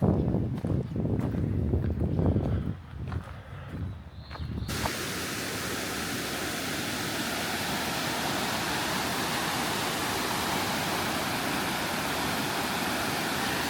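A stream rushes steadily on a White Mountains trail in New Hampshire, a broad continuous close wash of flowing water that swells in abruptly and then holds even, preceded by a few seconds of quieter footsteps and handling.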